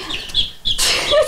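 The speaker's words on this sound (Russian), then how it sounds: "Из этого инкубатора появились маленькие цыплятки." Week-old chicks fresh from an incubator, kept together in a group, give a short burst of soft clucks and chirps that sound close and moderately loud, with no talk over them.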